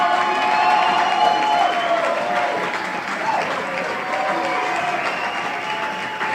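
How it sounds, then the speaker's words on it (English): Crowd at a 2A high school state tournament baseball game between Emery and Gunnison applauding as the pitcher leaves after ten innings, with steady, somewhat distant clapping and light cheering. "he'll come out of the game to a round of applause"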